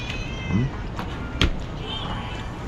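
A cat meows once, a short rising cry amid the clatter and background noise of a home kitchen during a storm, with a sharp knock shortly after.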